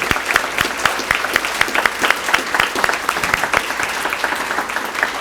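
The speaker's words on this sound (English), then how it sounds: "So I'd like to give an applause to our leadership at Temple College, Dr. Ponce and your leadership." Applause from the audience at a Temple College topping-out ceremony: a steady patter of many hands clapping, with sharp individual claps standing out, holding at an even level for about five seconds with no talk over it.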